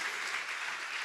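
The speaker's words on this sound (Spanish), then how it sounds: "Dele un fuerte aplauso al Señor." A church congregation applauding during a Spanish-language sermon, a brief, full burst of many hands clapping together with no voice on top.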